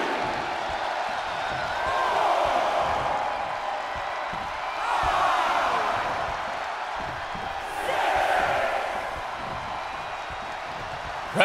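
Crowd cheering in the WWE 2K23 wrestling video game during a Friday Night SmackDown match: a continuous arena roar that swells three times, loud and broad, with no voices speaking over it.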